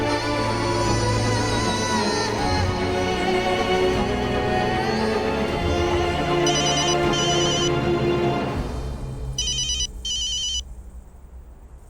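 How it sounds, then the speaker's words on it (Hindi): A phone ringtone plays loudly and continuously for several seconds, its melodic repeating tones layered over a dramatic background music score from a Hindi TV serial scene before fading near the end. "कबीर का फोन इस वक्त?"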